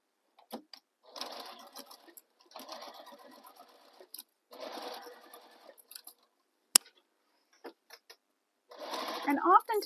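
A sewing machine stitches a Minerva tote bag in four or five short bursts of whirring, close and steady, separated by quiet pauses and a sharp click.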